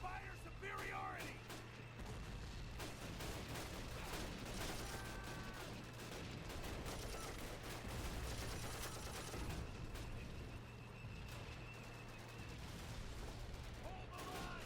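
Sustained battlefield gunfire from Call of Duty: United Offensive, with dense overlapping rifle and machine-gun bursts and a steady low engine-like drone, continuous and loud throughout, with shouted voices mixed in.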